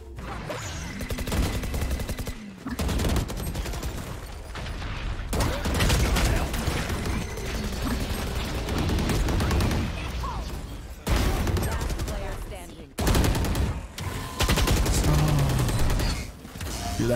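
Bursts of gunfire in the tactical shooter game Valorant come in loud, dense volleys broken by brief silent gaps, with players talking over the action.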